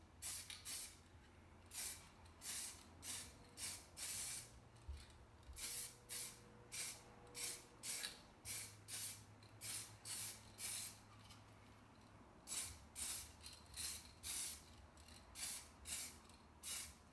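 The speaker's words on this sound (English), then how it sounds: "we are ready now to paint the cup holder." Automotive paint is sprayed onto a BMW E46 cup holder in short, even bursts of close hissing, roughly a second each, repeated over and over with brief pauses and no talking.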